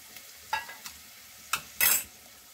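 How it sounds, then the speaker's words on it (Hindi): Chopped tomatoes stirred into masala for chicken keema gravy with peas, giving a few scraping stirs and brief sizzling bursts, close and fairly quiet, ending in a louder hiss. "इसे इस मसाले के साथ हम अच्छे से भून लेंगे"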